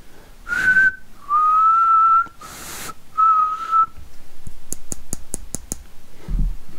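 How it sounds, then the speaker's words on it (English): Several short, clear whistled notes sound close to the microphone of a Yaesu FT227 radio, separated by breathy pauses, then a quick series of sharp clicks. "So if I whistle into this, you should see some"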